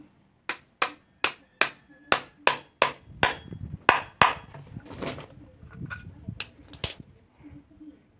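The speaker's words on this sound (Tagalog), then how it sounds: "Kaya no choice tayo, martilyo talaga." A hammer pounds a metal part of a scooter torque drive assembly in a steady series of sharp, ringing strikes, then more irregular blows with some clanking in between; close and loud.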